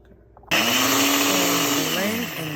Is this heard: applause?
no